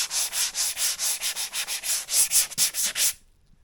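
A sanding pad is worked back and forth over a Mercedes car door panel in about a dozen quick, even rasping strokes. The rubbing is close and rhythmic, then it stops and the scene goes nearly silent.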